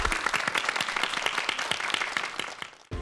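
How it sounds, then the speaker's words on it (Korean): A studio audience at a televised lecture show applauds steadily, a dense, even patter of many hands for about three seconds before it cuts off sharply near the end. "여러분 박수를 받아주세요."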